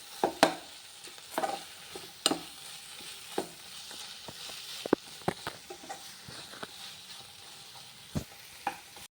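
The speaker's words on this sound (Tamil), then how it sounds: "புதினா கொத்தமல்லி தழையெல்லாம் நல்லா வதங்கிட்டு பாருங்கள்" Mint and coriander leaves sautéing with garam masala for tomato rice, a soft continuous sizzle broken by sharp clicks and scrapes of a spoon stirring the pan at irregular intervals, close and without talk.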